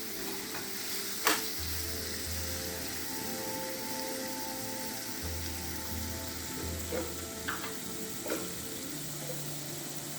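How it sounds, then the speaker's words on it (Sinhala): Fish chili curry simmers gently on low heat with a soft continuous sizzle and bubbling, a few sharp utensil clicks, and a low intermittent hum in the background. "මාළු මිරිස් මද ගින්නේ මේක පිස ගන්න. ගොඩාක්ම තැම්බෙන්න දෙන්නේ නැහැ."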